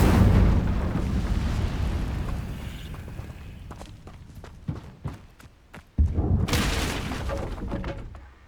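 Hogwarts Legacy's Incendio fire spell bursts with a roaring, crackling rush of flame, followed by scattered sharp impacts and clatter, then a second loud fiery whoosh. No one speaks.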